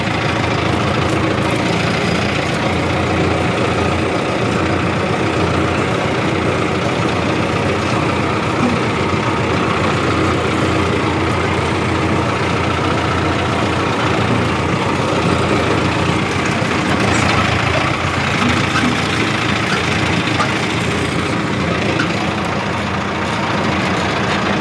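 A large 60 HP Massey Ferguson 5245 tractor diesel engine idles outdoors on a farm, a loud, steady, low rumbling drone that continues unchanged throughout.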